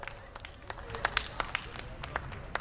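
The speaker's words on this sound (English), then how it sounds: "let's give her a big round of applause" Scattered clapping from a crowd, irregular claps rising over steady background chatter, moderately distant.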